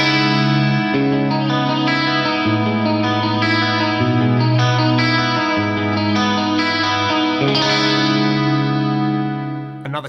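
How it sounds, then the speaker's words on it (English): Clean 1980s-style electric guitar with a rack stereo chorus and stereo pitch detune, nine cents either side with small delay offsets, shimmering arpeggiated chords ringing steadily for ten seconds, no voices. "a great stereo chorus combined with some stereo pitch detune"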